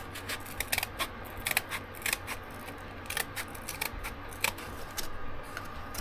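Scissors snip through a piece of material for a layered butterfly craft, a quick series of small, close, crisp cuts in an uneven rhythm over a faint background hum.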